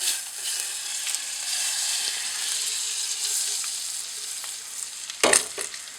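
Butter melting in a frying pan in a tiny house kitchen, giving a steady bright sizzle close by. Toward the end there's a brief louder clatter or splash.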